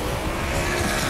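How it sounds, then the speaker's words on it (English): Street stock race cars on the final lap of a 50-lap event at Angola Motor Speedway, a dense, continuous roar of engines with tire noise, loud and close throughout. "Spinning all kinds of tires."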